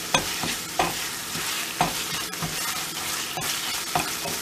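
Tomato paste frying in hot oil in a pan gives a constant close sizzle, broken by a few sharp scraping stirs at irregular intervals, with no talking.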